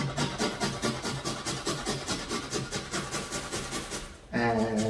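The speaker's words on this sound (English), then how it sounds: "I'm going to use the small bit of the grater" Two chunky garlic cloves are grated on the small side of a grater, making steady, rhythmic rasping strokes close up, followed by a louder, different sound at the end.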